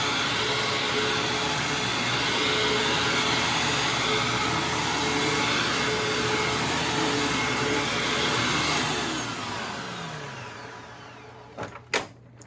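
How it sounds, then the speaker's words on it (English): A Hoover vacuum cleaner runs with a loud, steady motor whine and airflow roar for about ten seconds, then winds down and stops, followed by a couple of sharp clicks. "there's the Hoover"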